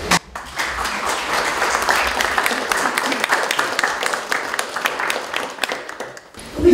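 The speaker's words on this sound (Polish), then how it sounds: "Proszę o brawa." Applause from an audience at a book launch, a sustained crowd of clapping hands at a steady moderate level that continues for several seconds, with some voices mixed in near the end.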